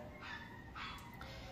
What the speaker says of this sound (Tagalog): Pasensya na sa aso, may tuta kasi yung kapitbahay.